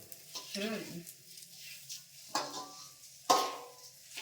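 Gobindobhog rice with ginger, ghee, salt and turmeric being stirred in a pot: a few quiet scraping strokes with a faint sizzle, spaced apart, up close and soft.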